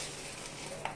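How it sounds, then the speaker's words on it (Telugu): Two dried red chillies sizzle briefly in hot oil, a close, steady hiss with one small pop near the end. "ముందుగా ఆయిల్ వేడయింది, దాంట్లో 2 ఎండుమిర్చి వేసుకుందాము"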